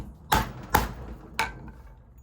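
Three sharp hammer strikes on a letter stamp into leather for a dog collar, close and loud, the first two quick together and the third after a short pause.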